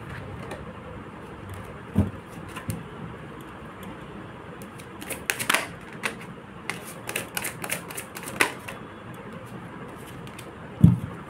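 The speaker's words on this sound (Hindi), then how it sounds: "कार्ड्स टकरा रहे हैं भाई, बहुत टकरा रहे हैं, बहुत बहुत बहुत टकरा रहे हैं कार्ड्स।" Tarot cards shuffle and clack together in a run of sharp, scattered clicks and taps over a faint room hum, with a few louder snaps near the end.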